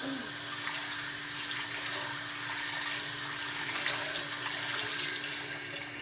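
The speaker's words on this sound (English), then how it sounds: "So I'm going to use some hot water, see if I can loosen it up." Hot water runs steadily from a kitchen tap onto Zwilling J.A. Henckels ceramic-coated cookware, a continuous close splashing hiss with no talking.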